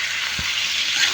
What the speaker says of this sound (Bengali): একটু রসুন ডিম দিয়ে ভেজে নিতেছি